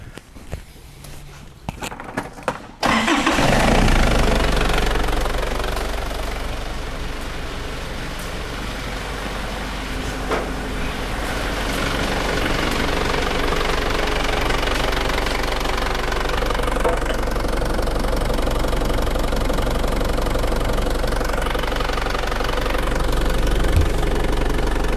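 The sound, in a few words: Holden Isuzu Rodeo engine running with mass airflow sensor unplugged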